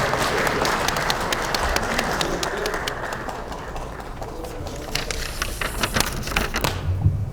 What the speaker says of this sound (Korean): 걸어 나오는데 시간이 좀 걸리니까 박수 좀 부탁드리겠습니다.